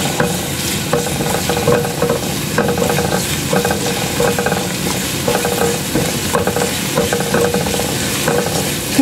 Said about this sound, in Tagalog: pag mainit na yung ating oil, lagay na natin yung ating garlic